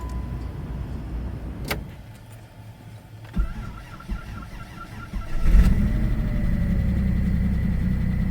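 An engine cold-starts in snowy weather, cranking briefly before it catches at about five and a half seconds, then settles into a loud, steady idle close by.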